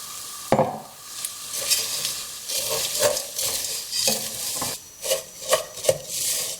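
Vermicelli noodles and nuts toast in a pan, a soft, steady sizzle broken by repeated scraping and stirring strokes close by, sharper clicks of the utensil against the pan marking an uneven rhythm, with no speech.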